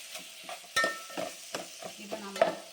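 Ingredients for a lentil ball curry sautéing in a pan, stirred with soft scraping strokes over a gentle sizzle, close and intermittent with several distinct stirs.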